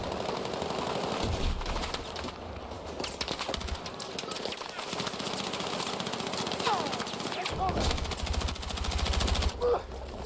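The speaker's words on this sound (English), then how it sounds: "Don't know what he's shooting at, but we'll just shoot the same direction." Automatic weapon fire in the video game Battlefield 6, sustained loud bursts of rapid shots with brief gaps, heavy and close, with someone talking over the gunfire.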